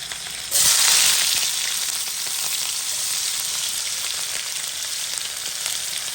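Spiced food sizzles hard in a frying pan, loud and close: a sharp hiss bursts in as the food hits the hot oil, then settles into a steady, dense crackle with no talking.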